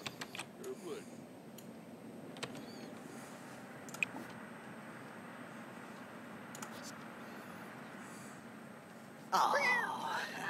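A cat in The Sims 4 gives a short meow near the end, after quiet background ambience broken by a few clicks, with a person talking in the room.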